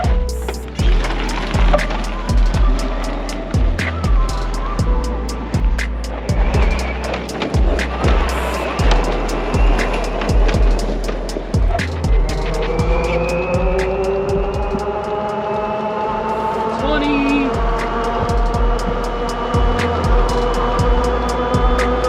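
A lithium-powered Club Car golf cart accelerates at full speed, its electric motor whine climbing steadily in pitch beneath continuous road and tire rumble, with repeated thumps and rattles of the cart over pavement, loud and close.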